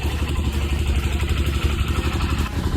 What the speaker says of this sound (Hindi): वैसे हम लोग अभी बाइक लेके जा रहे हैं